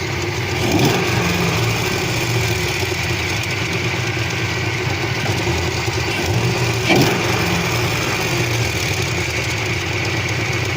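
A Pontiac Trans Am engine idles steadily and loudly up close, with a faint bottom-end knock that is hard to pick out in the continuous drone.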